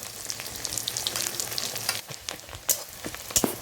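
Chopped garlic and onion frying in hot oil for a prawn malai curry: a bright, crackling sizzle close by, with a few sharp spattering pops and stirring scrapes.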